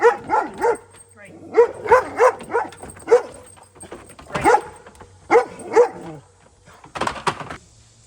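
A dog barks repeatedly in short bursts of sharp yips and bow-wows, close and loud, with brief pauses between volleys and a final cluster of quick barks.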